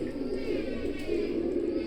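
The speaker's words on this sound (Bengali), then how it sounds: "এটা হচ্ছে একশো আঠাশ নম্বর টেডি" A teddy pigeon coos softly and continuously at close range, a low repeated burbling with a faint chirp or two over it.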